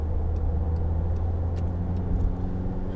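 Steady road noise and engine drone from inside a 2014 Volkswagen Tiguan 2.0 TDI as it accelerates toward highway speed, a constant low rumble with faint ticks above it and no speech.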